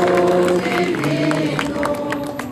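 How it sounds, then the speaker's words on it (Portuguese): Applause for the Divino flag at the opening ceremony of the Festa do Divino in Mogi das Cruzes, crowd clapping and cheering under sustained singing voices, fading slightly toward the end. "Uma salva de palmas para a bandeira do Divino."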